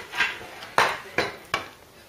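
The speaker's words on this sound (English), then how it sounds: "I'll flip the bumper over," A chrome bumper from a Ford Cortina Mk3 is flipped over on a workshop surface, giving a few sharp metallic clanks and knocks at irregular intervals, close and fairly loud, with no talking.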